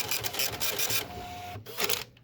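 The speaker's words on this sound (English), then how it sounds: "And then it will start printing." A Pineapple Bytes U220B Ethernet receipt printer runs its self-test, giving two bursts of rapid mechanical buzzing and whirring with a short pause between, loud and close.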